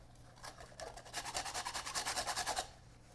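Sandpaper rubbed by hand back and forth across a cookie mosaic box lid, a steady run of about a dozen close, rhythmic rasping strokes with no talk.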